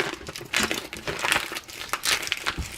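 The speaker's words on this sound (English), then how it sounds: "Now you open up your package of meat." A thick plastic package of chicken breast is pulled open up close in a kitchen, giving loud, steady crinkling and crackling of the wrapper throughout, with no talking.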